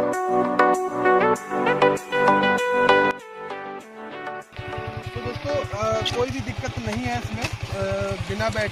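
A Yamaha MT-15 motorcycle with its battery removed runs at a steady idle, a low, rapid, even thumping from its single-cylinder engine. The thumping begins partway through, after a stretch of tonal, music-like sound and talking.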